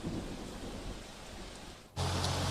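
Heavy nonstop rain pours down in Surat with a dense hiss, then a loud thunder crash jumps in abruptly near the end and holds at full strength; no voices.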